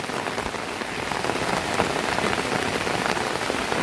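A sudden downpour in a tribal village, rain drumming steadily and densely on surfaces close by, an unbroken hiss that holds evenly throughout with no voices.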